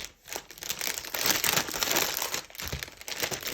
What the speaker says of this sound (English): Lots of noise with the cello bags here